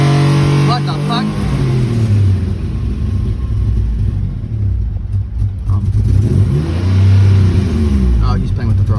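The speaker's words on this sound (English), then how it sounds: "Oh, he's playing with the throttle." Car engine revving as someone works the throttle, a loud close rumble rising and falling in repeated surges, with people talking over it.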